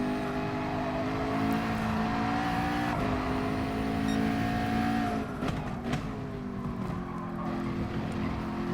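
A racing car engine drones in GT Sport at the Interlagos circuit in Brazil, a steady high-revving tone that dips and climbs through gear changes and braking, with brief tire noise and other cars nearby, continuous and unaccompanied by speech.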